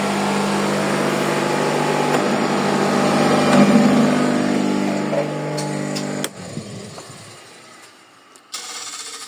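A new 220 V electric motor on a vacuum hay cutter hums steadily, then winds down and cuts out with a couple of sharp clicks near the end.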